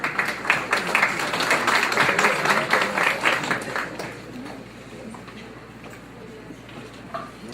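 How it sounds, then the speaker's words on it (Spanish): Applause for a speaker at an international seminar held at a university: close, dense clapping for about four seconds that then thins out to a few scattered claps and quiet room noise. "Démosle un fuerte aplauso"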